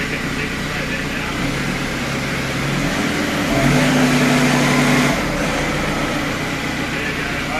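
An Antonio Carraro Infinity TR7600 tractor engine runs loud and close, its drone shifting pitch as it eases off and brakes on a downhill, with a steady hum underneath.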